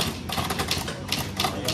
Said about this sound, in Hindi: अंकल की टाइपिंग स्पीड इतनी तेज है क्या बताऊँ